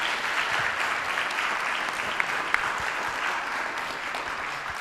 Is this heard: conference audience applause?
yes